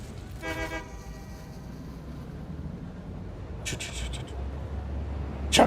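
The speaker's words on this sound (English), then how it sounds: "Train going that way." Train in a video game passing by with a horn-like toot early on, a steady rumbling drone beneath, and another tonal blast near the end followed by a sharp clatter; a voice speaks briefly over it.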